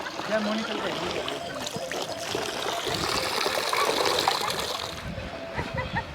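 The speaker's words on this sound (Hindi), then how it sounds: "वाटरफॉल के जस्ट नीचे ये पानी पीने के लिए पी लेता हूँ मैं।" Just below the Staubbach waterfall in Lauterbrunnen, Switzerland, water trickles and splashes close by. The sound is faint and steady, and a voice talks over it.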